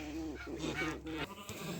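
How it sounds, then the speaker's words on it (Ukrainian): Sheep bleat in short wavering cries close by, with a rustle or two underneath. "Так, наші вівці. Коротко про них. Блають і їдять і п'ють."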